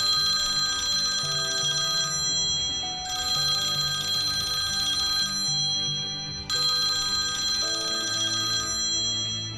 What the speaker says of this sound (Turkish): Son ses gerçekten dırr diye. Üç kere beş kere yapıyor.